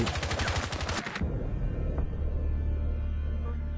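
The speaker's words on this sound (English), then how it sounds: "Do not shoot a reinforced wall, because your bullets will not go through" Rapid automatic gunfire from a Rainbow Six Siege rifle rattles loudly against a reinforced wall for about a second, then cuts off, leaving a low rumbling room tone with one faint click.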